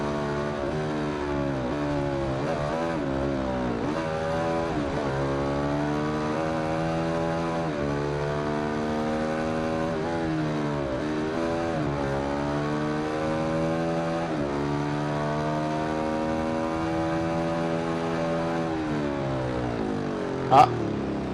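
Engine of a 2015 Ducati Hypermotard 821 SP motorcycle in the Ride 2 racing game, revving up and down repeatedly through gears with a steady buzzing drone and a sharp brief click near the end, under occasional talk.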